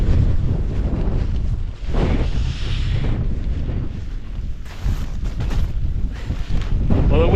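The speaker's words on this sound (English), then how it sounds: "the wind's already nearly flipped this out of my hands" Strong wind on a mountain campsite on Bow Fell in the UK roars and buffets the microphone loudly and steadily, with gusts rising and falling, and a person talks at times over it.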